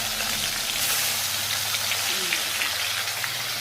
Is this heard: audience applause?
no